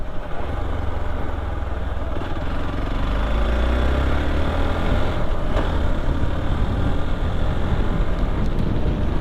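A Hero XPulse 200 motorcycle on the road near Khopoli gives a loud, steady engine drone mixed with heavy wind rush, its pitch climbing gradually as it gains speed, with no talking.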